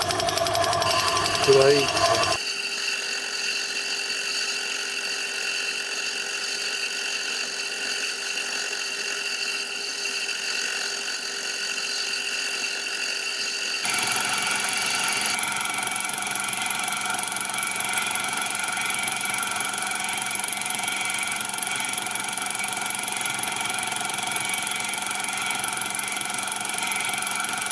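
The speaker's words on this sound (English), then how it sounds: "That noise is the backside of the fly cutter coming onto the workpiece" A homemade Gingery milling machine runs with a fly cutter striking a workpiece, producing a steady mechanical hum and whir that changes tone partway through, after a brief bit of talking at the start.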